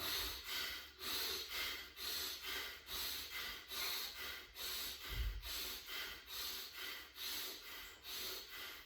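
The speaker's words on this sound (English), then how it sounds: "Breathing in, faster, harder." Rapid, forceful breathing in a guided breathwork exercise, about two breaths per second in a steady rhythmic pattern of sharp, airy pulses, close to the microphone.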